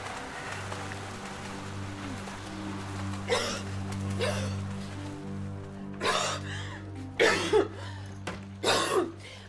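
A person coughs in several short bursts near an indoor swimming pool where chlorine fumes hang in the air, the coughs spaced over a steady low background hum.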